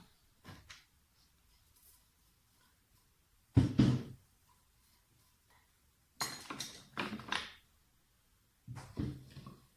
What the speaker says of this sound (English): So I'm going to clear that hole out.